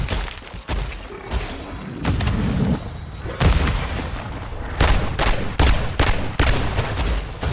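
A shotgun-shell revolver fires at zombies in Call of Duty MWZ: a loud volley of heavy booming shots, several in quick succession near the end, over a busy game backdrop.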